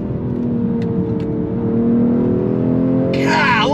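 Exhaust of a 2022 BMW M240i cornering on a bend: a steady, fairly loud engine drone holding an even pitch, with a rush of broadband noise near the end and no talking.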